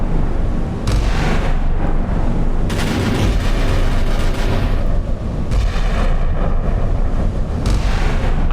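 Naval warship medium and heavy guns booming in a video game battle between British Royal Navy and Royal Australian Navy vessels, loud overlapping blasts and rumbling explosions filling the whole span without talk.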